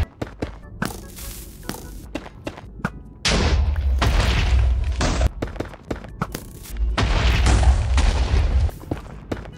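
Minecraft TNT explosions go off in a rapid series of booms and thuds, with loud sustained blast rumbles in two bursts amid sharp crackling pops, no talking.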